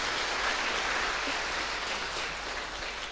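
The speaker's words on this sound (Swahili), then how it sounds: "Kei tuhorire governor witu ringi makofi" A church congregation applauds the governor during a Kikuyu-language service, with steady, dense clapping that fills the hall and fades slightly toward the end, with no voices over it.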